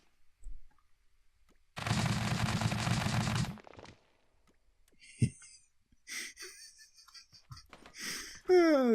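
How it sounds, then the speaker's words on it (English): A big gun on a Maus-style spud tank firing in Scrap Mechanic, a rapid rattling burst of shots lasting almost two seconds, followed by quieter clanks and a short sharp thump. "So if we fire the big gun."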